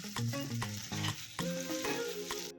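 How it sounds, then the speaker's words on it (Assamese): Katla fish pieces are stirred into fried masala in hot oil for a Bengali-style kalia, giving a loud, continuous sizzle with repeated scraping strokes of a spatula against the pan. "এতিয়া আমি ভাজা মছলাখিনিত আমি মাছখিনি দি দিম।"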